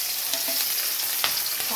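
Onion and chili frying in a pan, a steady close sizzle with a few soft stirring scrapes and clinks, no voices.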